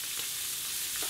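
Black bream fry in butter in a pan, giving a steady, close hiss and crackle of sizzling fat for about a second with no talking.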